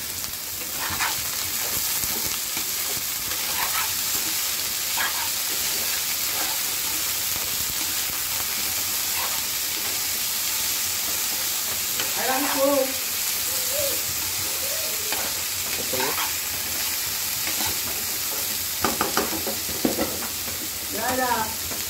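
Fig (dumur) frying in a pan with a steady close sizzle, broken by repeated scraping strokes of a stirring spoon, with a few brief louder clinks near the end and no talking.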